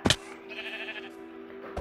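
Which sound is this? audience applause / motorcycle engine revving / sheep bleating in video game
sheep bleating in video game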